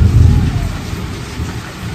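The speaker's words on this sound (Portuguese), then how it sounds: "Olha o tamanho desse trovão." Heavy rain pours down steadily during a strong storm as a deep rumble of thunder rolls loudly at the start and fades under the hiss of the downpour.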